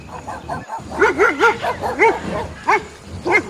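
A pack of dogs barks and yelps in quick bursts while chasing a herd of buffalo, the loud, close excited barking rising and falling in wavering, whining tones.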